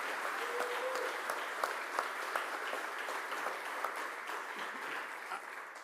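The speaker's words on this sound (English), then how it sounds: "Give a round of applause for Sam T." Audience applause at a political event in Philadelphia: steady, dense clapping from a crowd that holds throughout, close and fairly loud, with no voices over it.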